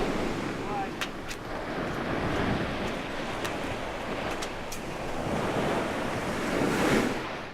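Steady ocean surf washing onto a beach fills the whole stretch, a continuous broadband roar with gentle swells and light wind buffeting the microphone, building slightly louder near the end.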